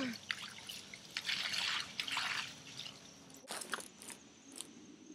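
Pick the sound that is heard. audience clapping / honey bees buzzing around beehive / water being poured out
water being poured out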